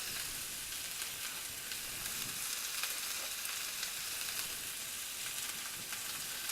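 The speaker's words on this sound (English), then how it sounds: "Now you want to try to cook these onions on a medium-high," Onions frying on medium-high heat in a pan for chicken Lyonnaise, seasoned with thyme and pepper, giving a steady, even sizzle with a dense hiss throughout and no talking.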